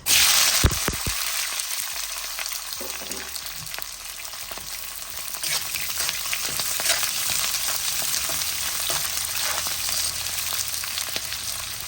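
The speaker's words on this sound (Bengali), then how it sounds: "এই যে দেখেন মরিচটা ভাজা হয়ে গেছে, দিয়ে দিব এই যে এরকম করে বড় বড় করে কাটা পেঁয়াজ।" Chili and large chunks of onion frying in a pan, a dense, steady close sizzle with crackles and a few stirring knocks, continuous and loud, no voices.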